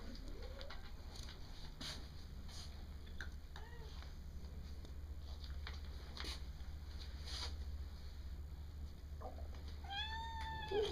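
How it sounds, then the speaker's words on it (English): At an animal shelter, a black cat gives several soft meows, rising and falling cries scattered through the clip and a clearer one near the end, over a faint steady hum with occasional bird sounds. "there's a black kitty coming down."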